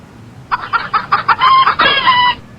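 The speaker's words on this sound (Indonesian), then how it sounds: "berupa kokok," A rooster crows loudly and close, a series of rising clucks building into a long drawn-out call.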